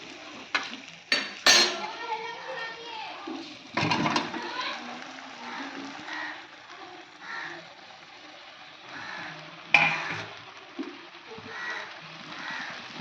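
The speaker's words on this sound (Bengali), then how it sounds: "এখন আমি এর মধ্যে আলু দিয়ে দেবো" Potatoes go into a pot of mutton being braised in a home kitchen: scattered metallic clinks and clatters of utensil against pot, a few sharp knocks, over a low background with faint talk.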